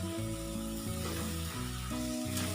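Sautéed fenugreek leaves go into a pan of garlic for garlic methi and hiss with a loud, continuous sizzle, stirred with a few dull scrapes and no voices.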